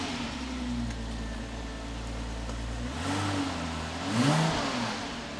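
A 2008 Porsche Cayman 987 with a six-speed manual gearbox and about 40,800 miles, starting from cold: a steady low engine drone, then a brief rise in pitch and loudness as it catches and settles into idle.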